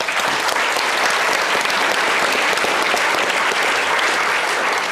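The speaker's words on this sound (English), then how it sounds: "please join me in giving a round of applause to them" Steady, full applause from an audience at a Commonwealth Club meeting on zero waste, dense and even at a constant loud level with no pauses.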